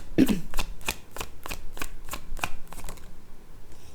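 Tarot cards are handled and drawn, making a quick run of crisp, evenly spaced papery snaps and riffles close by, about one every third of a second before trailing off.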